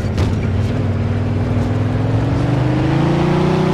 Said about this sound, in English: Just hear this engine purr.